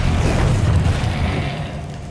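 Confringo blasting spell from Hogwarts Legacy going off as a deep, rumbling boom that stays loud and dense through the whole stretch, then slowly thins toward the end.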